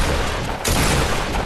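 Gunfire in the Fortnite Battle Royale video game: a loud, dense burst of shots cuts in sharply partway through and keeps going as a sustained, close volley.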